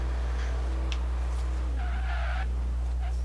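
Ford Mustang in the racing game Forza Horizon 3 at an online car meet, a low steady engine drone with tire squeals and skidding over it, continuous and moderately loud with no talking.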